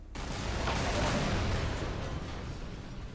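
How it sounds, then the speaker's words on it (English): Explosions in a Half-Life 2 mod (Get a Life) erupt as a loud, rumbling roar that swells after a brief quiet start, then holds and slowly fades, with no talking. "a random explosions a few seconds later almost got me."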